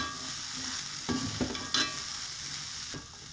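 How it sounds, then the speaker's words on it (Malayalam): Coconut and white bean thoran stirred in a pan on the stove, a steady sizzle with a few scraping knocks of the spoon against the pan, close and even throughout. "അതുവരെ നമുക്കിങ്ങനെ ഇളക്കി കൊടുക്കാം."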